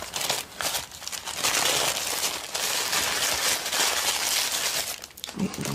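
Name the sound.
crinkling paper being wrapped back around a small candle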